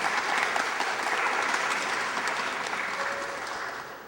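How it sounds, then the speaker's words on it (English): An audience at a film master class applauds, a thick, continuous roar of clapping that holds steady and then fades slightly toward the end, with no talk over it. "I think this deserves a round of applause"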